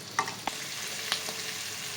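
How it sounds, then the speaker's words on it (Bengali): Chopped onion fries in leftover oil in a wok, with capsicum to follow, giving a soft steady sizzle. A few light stirring clicks and taps sound close by. "বাকি যে তেলটা আছে ওই তেলটাতে পেঁয়াজ কুচি, প্রথমে এটাকে একটু লাল লাল করে ভেজে নিতে হবে"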